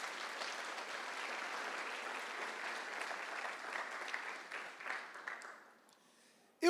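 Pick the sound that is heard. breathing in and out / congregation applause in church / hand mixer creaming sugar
congregation applause in church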